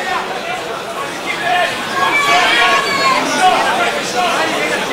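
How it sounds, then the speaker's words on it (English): A crowd shouts and chatters at a fight event in the Alona Hotel, a steady murmuring roar swelling louder midway, with a commentator's voice over it. "you hear the shouts of the crowd here at the Alona Hotel"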